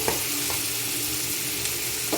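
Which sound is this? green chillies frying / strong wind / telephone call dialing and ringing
green chillies frying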